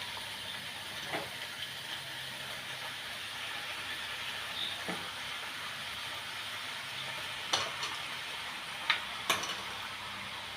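Marinated chicken fries in a pan for a simple chicken curry, a soft steady sizzle and hiss with occasional scraping clicks from stirring, fairly quiet throughout with no voices.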